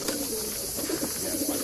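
Pigeons coo in soft, repeated throaty phrases close by in a loft, a steady murmur of several birds overlapping with no speech.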